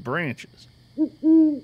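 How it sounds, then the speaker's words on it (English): A great horned owl gives two low, deep hoots, the second longer and steadier, after a man's brief spoken word, heard close and clear outdoors with a light wind. "I believe that's the call of the great horned owl."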